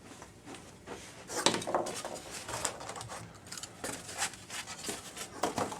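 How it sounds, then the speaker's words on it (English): A tunnel portal piece for a model railroad's Woodland Scenics tunnel tops is cut out close by, giving a run of irregular crisp snips and scraping cuts with short pauses and no talking. "So let's get this cut out right quick."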